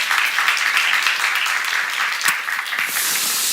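Church seminar audience clapping together in a steady, dense round of applause that fills the room, continuous for a few seconds with a brief sharper clap near the end.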